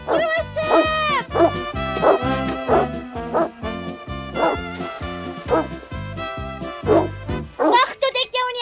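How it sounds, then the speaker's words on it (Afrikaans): A dog in a hay barn barks and yips repeatedly in quick bursts over a backing music track, in a Heidi cartoon episode. "Dis nou die tweede keer dat jy jou neus in my hooi steek en blaf."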